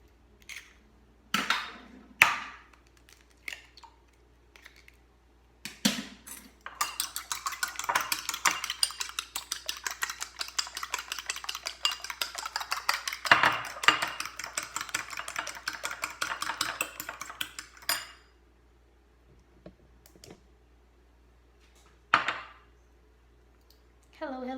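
Eggs being beaten in a bowl for tortang ampalaya: a rapid, continuous clatter of a utensil whisking against the bowl, near and fairly loud, framed by brief knocks and a voice talking before and after.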